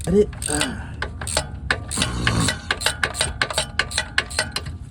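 A ratchet loosens the oil drain plug on a 2008 Acura MDX, giving a close run of quick, sharp clicking pawl strokes after a few brief metallic knocks, with no talking.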